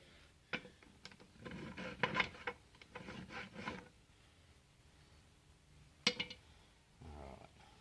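A G100 clone engine piston being hand-filed at close range: irregular bursts of rasping strokes, some short and some longer runs, with quiet pauses between them, a sharp metallic clink near the end and a softer scrape after it.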